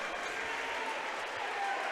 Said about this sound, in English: That gets the crowd up.